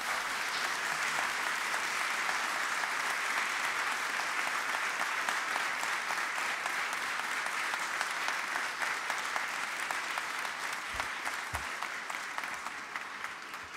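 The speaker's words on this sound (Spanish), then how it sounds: "El público les puede brindar un merecido aplauso." Sustained audience applause at a lawyers' swearing-in ceremony before the Supreme Court, a dense, steady clapping that fills the room evenly for about fourteen seconds with no voices over it.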